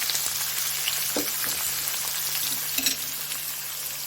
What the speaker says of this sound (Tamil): இப்போ நம்ம வெட்டி வச்சுருக்க வெங்காயம், பச்சை மிளகாய், பூண்டு சேர்த்துடலாம்.